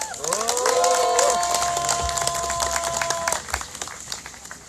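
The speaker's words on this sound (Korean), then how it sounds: "감사의 박수 부탁드리겠습니다" An audience at a protest rally against a missile defense deployment breaks into scattered applause with voices and shouts over it. The clapping is moderately loud at first, then thins into sparse claps.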